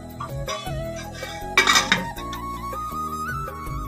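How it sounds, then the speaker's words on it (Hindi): A metal lid set on a cooking pot of meat being roasted, one bright clanking clatter in the middle of a short clip, with quieter scraping and clinking of cookware around it. "अब इसको कवर करके रख दूंगी जब तक ये अच्छे से भुन नहीं जाता।"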